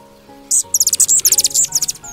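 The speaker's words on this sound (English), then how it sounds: "Hummingbird." Hummingbird chirping, a rapid series of sharp high twittering notes in quick rhythm, close and clear with no voices.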